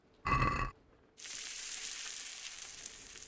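A carrot cooks in Kingdom Come: Deliverance: a short burst of bubbling, then a steady close sizzle of frying that continues to the end.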